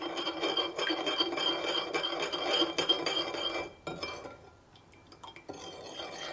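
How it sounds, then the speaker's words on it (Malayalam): A spoon stirs sugar into water, clinking and scraping rapidly against the vessel in a busy rhythm for several seconds, then briefly pausing and resuming more softly; fairly close and quiet, with no voices. "ഈ പഞ്ചസാര ഈ വെള്ളത്തിൽ നന്നായിട്ട് മിക്സ് ആവണം."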